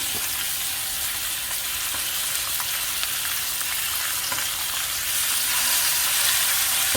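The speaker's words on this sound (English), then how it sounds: "So we've got them in, leave them, let them sear." Tomahawk pork chops sear in a hot pan with a dense, constant sizzle and scattered crackling pops, close and loud, growing a little stronger toward the end, with no talking.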